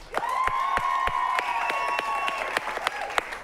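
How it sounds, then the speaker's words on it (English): An improv comedy audience claps and cheers to vote for a movie scene, a steady crowd applause lasting throughout with individual sharp claps standing out and a sustained tonal ring underneath. "Clap for both, but louder for the movie that you would like to continue"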